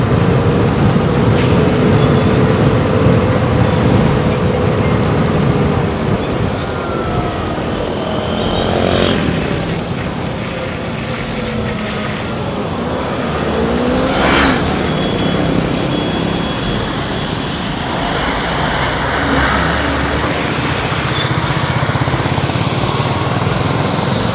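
An Oben Rorr electric motorcycle with a combined braking system is ridden through a short U-turn. Steady wind roar and buffeting dominate, with a faint rising and falling motor whine underneath and no voices.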